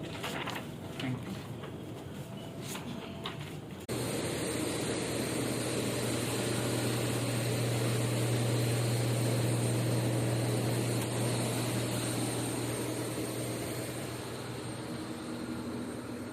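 Airplane engines after landing at an airport in Uganda, a loud steady roar and whine that swells in abruptly and holds for a long stretch with a constant low drone.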